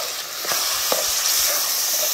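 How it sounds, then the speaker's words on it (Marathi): Onion-coconut masala fries in oil on a wood-fired clay stove for a spicy fenugreek dumpling curry, a close, continuous sizzle with a few soft stirring scrapes and no talking. "हा सौदा तेलात रट शिजवून घ्यायचा."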